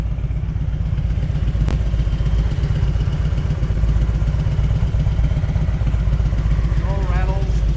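A 1999 Harley-Davidson Road King Classic engine runs steadily close by, with a rhythmic, throbbing low loping beat and light mechanical clatter throughout and no rattles noted, plus a brief squeak near the end.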